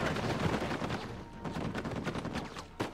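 Turret gunfire in the Uncharted 4 video game, a dense, continuous rattle of shots with a sharper burst near the end, no talking over it.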